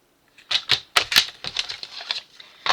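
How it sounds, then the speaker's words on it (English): Patterned scrapbook paper being cut down to size, a quick series of crisp cutting snips and clicks in irregular rhythm, close and fairly loud, no talk. "I'm going to just now measure this, and I'm going to cut this down to 6"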